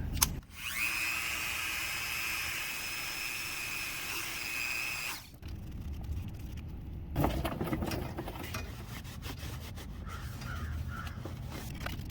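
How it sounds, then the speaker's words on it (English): A soft buffing wheel on a power drill whirs steadily while cleaning rust off an automotive part, a high sustained spin that stops midway, followed by quieter handling noises and crows cawing in the background. "I've got this soft buffing wheel here."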